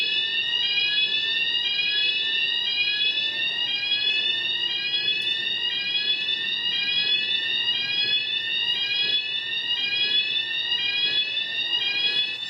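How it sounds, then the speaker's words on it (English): A building alarm in the video game Tokyo Dark Remembrance rings continuously, a shrill, repeating rising electronic whoop cycling rapidly at steady loudness, with no talking. "This is one of the most annoying alarms ever."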